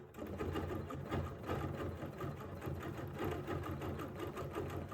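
A sewing machine couches fibers along a petal design, running in a steady, fast mechanical rhythm of stitches that continues without pause, close and moderately quiet.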